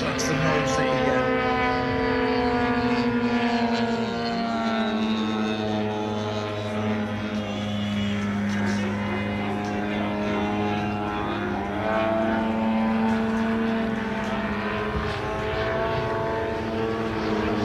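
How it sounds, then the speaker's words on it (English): Loud continuous droning whine of a model aircraft propeller at an airshow, its tips spinning near the speed of sound, with steady buzzing tones that bend slightly in pitch as the plane passes, heard alone. "As the propeller reaches almost the speed of sound at the tips, that's the noise that you get."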